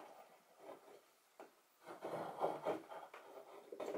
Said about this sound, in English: get my marking gauge again and set that line up here and score that line